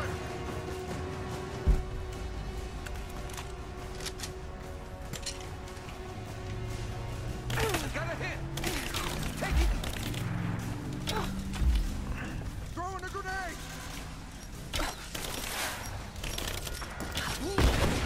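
Gunfire crackles in the action game Rise of the Tomb Raider, scattered shots and bursts amid combat effects and music, mostly faint and mid-distance, with a voice briefly heard.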